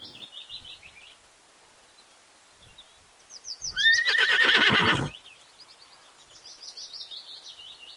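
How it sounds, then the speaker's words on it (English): A horse gives one loud, drawn-out whinny, framed before and after by soft, steady bird chirping. "H. H for horse."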